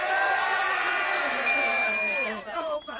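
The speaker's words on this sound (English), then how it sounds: "I want to give one more cheer and lift, alright?" A boys' high school rugby team at a national championship school final lets out a loud sustained group cheer, many voices shouting together close by before tapering off into scattered calls.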